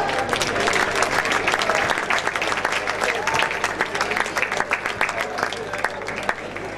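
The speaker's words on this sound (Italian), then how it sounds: "Applauso" Steady applause from a sizable crowd at a volunteering festival's final show, dense and continuous clapping throughout with a few sharper claps standing out near the end.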